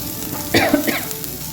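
Onions softening in hot oil in a pan for a potato curry, a soft continuous sizzle with a brief stir or clatter in the middle, close and moderately loud.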